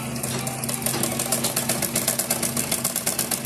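A tailoring sewing machine stitches fabric with a fast, steady mechanical chatter, its needle strokes repeating evenly and close by throughout.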